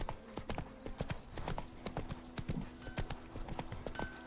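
Roach, Geralt's horse in The Witcher 3, gallops in a steady, rapid clip-clop of hooves with a brief whinny, the hoofbeats crisp and close against faint game ambience.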